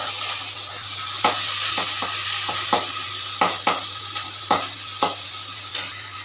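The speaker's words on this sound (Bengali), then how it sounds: "সে পেঁয়াজটাকে এখন একটু ভাজা ভাজা হোক" Onions fry in mustard oil with a steady, even sizzle, while a utensil scrapes and clicks against the pan in irregular strokes about every second.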